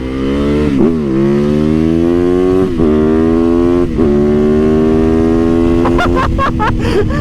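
A street-legal supermoto motorcycle engine revs loudly and close up, its pitch climbing steadily with brief dips between gear changes, ending in a few sharp blips of the throttle.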